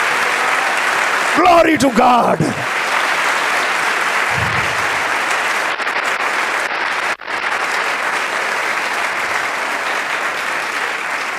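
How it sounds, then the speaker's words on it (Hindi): A church congregation claps loudly and continuously in praise, a thick sustained roar of hands under a preacher's brief spoken exclamation near the start and a short murmur later. "मेरा दिल चाहता है जिंदा यीशु के लिए जोरदार ताली।"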